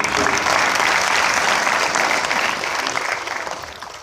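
A crowd applauds at a Hindi kavi sammelan poetry recital, the clapping dense and continuous at first, then thinning and tapering off toward the end, with no speech on top.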